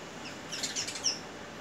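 A sparrow gives a few quick, bright chirps close by in a short burst, heard alone over a light background hiss.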